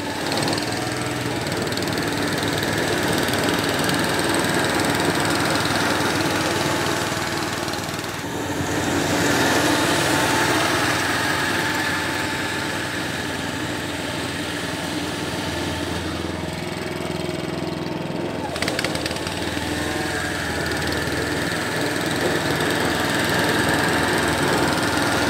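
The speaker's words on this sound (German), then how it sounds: "Wir mähen einmal hin und dann wieder zurück und dann schauen wir uns den Schnitt an und dann mähe ich nochmal gegen." A Swardman Edwin 2.1 reel lawn mower runs steadily while cutting grass, its engine droning with a constant high whirr and light knocking, close by and alone, easing slightly for a moment before resuming.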